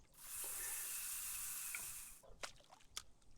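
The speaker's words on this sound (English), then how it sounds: "this lure splashes along the surface" In the game Fishing Sim World Pro Tour on Lake Boulder, a popper lure makes a steady broadband splashing hiss for about two seconds, followed by a few sharp, brief splashes and pops on the water surface.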